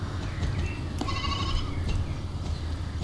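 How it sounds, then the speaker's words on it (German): Sheep bleating in the Star Stable video game, a single clear bleat rising over a steady low background hum with no talk. "Und das ist ein dickes, fettes Schaf."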